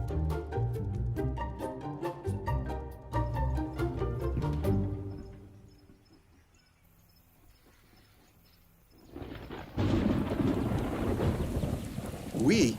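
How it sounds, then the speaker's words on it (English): A thunderstorm brings heavy rain. Deep thunder rumbles and rain pours on the ground, with a quiet lull before the downpour returns loud and close under music. "We instinctively seek shelter from the storm."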